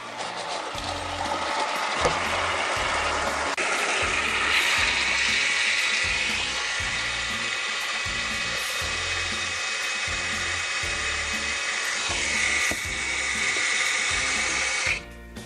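KASA water pump running just after priming, a continuous whirring, buzzing motor hum with rapid pulsing and sputtering water noise, fairly close and steady for the whole stretch, cutting off at the end.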